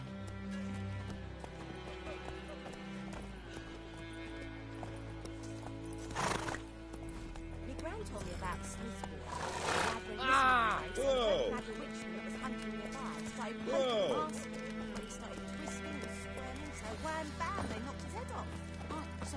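Roach, Geralt's horse in the Witcher 3 video game, gallops with steady clip-clop hoofbeats and snorts, mixed under orchestral game music with a loud whoosh partway through, and a voice briefly speaks.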